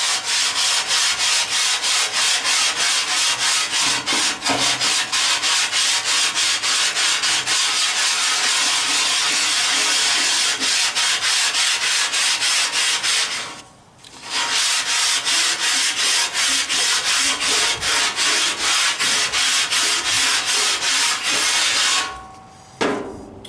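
Metal scraper worked across a Blackstone griddle surface during repair and re-seasoning, loud rapid rhythmic scraping strokes that run continuously, broken by two short pauses.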